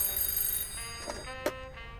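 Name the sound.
telephone ringing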